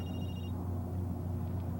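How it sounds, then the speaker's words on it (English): A phone rings on a TV show set during filming of a scene: a short electronic ring at the start, then low steady room rumble. "Is that your phone?"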